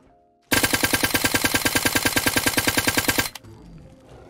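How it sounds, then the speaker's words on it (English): Sustained full-auto gunfire from a fully upgraded, modded rifle in Fallout 4, a rapid, even stream of loud shots lasting about three seconds before stopping abruptly, with a faint tail after. "Let's see how we do in full auto with a fully upgraded receiver"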